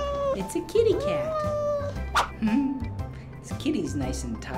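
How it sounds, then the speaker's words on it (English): A cat meows several times in short, rising and falling calls, heard over background music and other sounds. "Look at what it is. It's a kitty cat."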